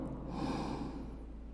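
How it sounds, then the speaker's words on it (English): A single deep breath drawn in slowly through the nose, a soft, airy inhale close up and alone. "Inhale."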